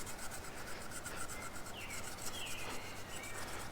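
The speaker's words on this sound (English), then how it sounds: "got some very fine steel wool, and this cleans off extremely well without being at all abrasive" Very fine steel wool rubs over a part from a vintage Porsche 911 Targa, making a steady, close, soft scratchy rasp that continues for several seconds without pause.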